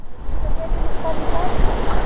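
Continuous roaring surf on the Aurora coast in the Philippines with heavy wind buffeting the microphone, a dense, loud wash of crashing water and rumble without clear pauses.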